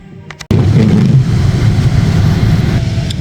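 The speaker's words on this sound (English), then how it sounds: "Hopefully you can hear me because I have got my heater on" A car heater fan running inside a snowbound car: a steady, loud rushing blow kicks in abruptly and holds on evenly without a break.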